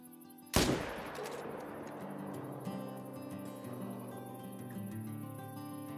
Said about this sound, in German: Schuss hat gepasst.